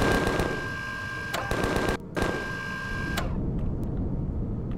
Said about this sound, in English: Reload the Gatling guns, and let's go see if we can find some parasaurs or something to kill right here.